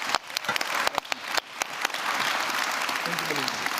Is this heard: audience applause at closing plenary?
yes